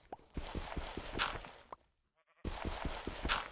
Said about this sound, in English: I do hear some sheep, so we can't be that far from the surface.